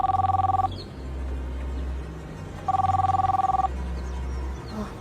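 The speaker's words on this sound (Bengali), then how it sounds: "আমার একটা ফোন এসছে," A telephone rings for an incoming call in two loud, steady bursts, each trilling ring lasting under a second and followed by a pause, set against a low continuous hum in a tense dramatic scene.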